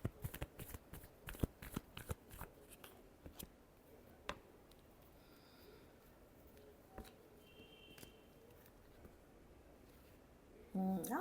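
Tarot cards are shuffled in a rapid run of crisp riffling clicks at the start, then sparser taps and light handling noises, close and quiet, ending in a brief louder rustle.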